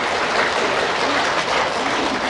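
Dense, steady clapping from a lecture audience, loud and continuous for a couple of seconds without any voices over it.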